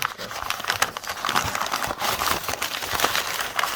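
Paper crinkling and rustling close by, a steady run of crisp crackles and crumples with no talking.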